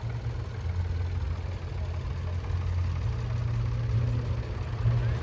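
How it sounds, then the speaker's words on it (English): A Ferguson FE35 three-cylinder diesel tractor idles at a steam rally, a low steady chugging throb with outdoor background noise and no voices. "The Ferguson FE35, 3-cylinder diesel."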